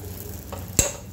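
Spices sizzle softly in a pan, with a faint stirring scrape followed by a sharper clink of a utensil against the pan, close and brief without speech.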